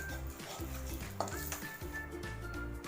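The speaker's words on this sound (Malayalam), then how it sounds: "ഇതിലേക്ക് 2 ഏലക്ക, ഒരു ബേ ലീവ്സ്, ഇത് രണ്ടും കൂടെ നന്നായിട്ടൊന്ന് ഇളക്കി കൊടുക്കാം." A spoon stirs cardamom pods and a bay leaf in a pan for butter chicken, soft scraping and clinks over a steady sizzle, faint and close.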